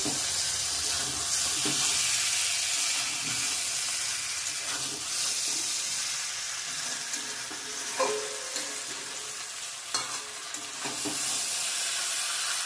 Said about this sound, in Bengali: মাংসটা কষানো হয়ে গেছে, তেল ছেড়ে দিয়েছে।